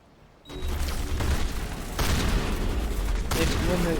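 Gunfire in the video game Mass Effect starts abruptly and continues as sustained rapid shooting with heavy low booms, mixed with battle noise and speech.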